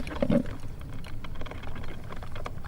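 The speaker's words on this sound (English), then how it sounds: "That's the sound of a fresh pot of Joe brewing." A fresh pot of coffee brews with a busy, close burbling and irregular bubbling patter.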